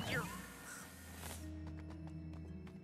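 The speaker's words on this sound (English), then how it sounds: "Oh, these crows come out of nowhere." Crows cawing in the video game Luigi's Mansion 3, a few harsh calls bursting out at the start over a steady bed of game music and effects.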